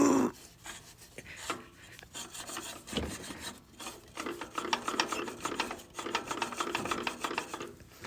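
A failing car AC compressor gives off a rough, rasping, grinding noise that pulses irregularly, moderately quiet and close, with no talking over it.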